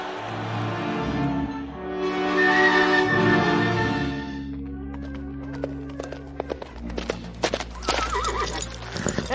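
A racehorse at the track after a race, staged as a radio drama effect, lets out a long loud whinny, then hooves clatter in quick irregular clip-clops alongside a low background hum.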